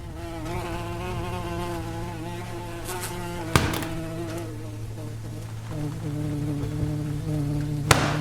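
Murder hornet buzzing with a steady, close drone, a continuous insect hum that persists throughout with a couple of sharp clicks or taps.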